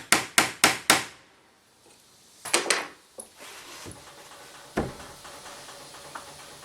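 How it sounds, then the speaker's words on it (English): A hammer strikes the tip of a nail held on a scrap piece of wood to blunt it, four quick, loud, sharp taps close up, followed by a few lighter knocks and handling clatter. "take you a scrap piece of wood and take your nail and just hit it a few times and blunt the end of it"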